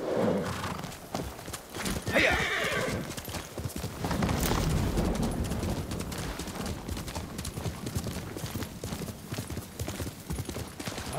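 Horses gallop in Ghost of Tsushima, a steady clattering of hooves close by with a whinny and scattered bursts of gunfire-like cracks under occasional voices.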